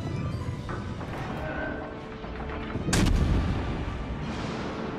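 Naval artillery in World of Warships Legends, with the USS Baltimore cruiser in battle, sounds as a steady rumble of gunfire and a loud, sharp salvo near the middle that booms and rolls on under the game's background noise.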